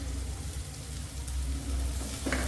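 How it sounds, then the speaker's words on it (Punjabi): Onion paste with green chillies, ginger and garlic frying in a hot tempering, giving a steady, close, dense sizzle with a faint stir near the end. "ਇਹਨੂੰ ਵੀ ਤੜਕੇ ਦੇ ਵਿੱਚ ਪਾ ਕੇ ਭੁੰਨਾਂਗੇ"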